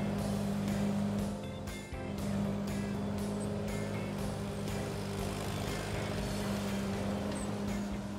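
A cartoon lawn mower cuts shapes into grass with a steady, low motor drone that runs continuously with slight dips and no pauses.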